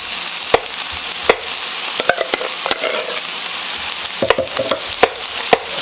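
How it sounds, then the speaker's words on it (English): Hash frying in a hot pan while a spoon scrapes and stirs it, a constant sizzle broken by repeated sharp scraping knocks at an uneven pace, close and loud. "take your hash, and with a spoon and scrape out the rest of it out of here."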